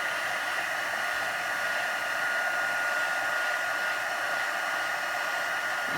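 A heat gun melting clear embossing powder on a stamped card, a steady, close whooshing hiss of blowing hot air that holds unchanged throughout.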